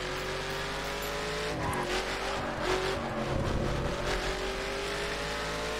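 A Mercedes-Benz 300 SLR drifting through the hairpin at Laguna Seca in The Crew: a steady engine drone with shifting revs and faint tire squeal through the middle, with no talk over it.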